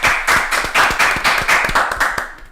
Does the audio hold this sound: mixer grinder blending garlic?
no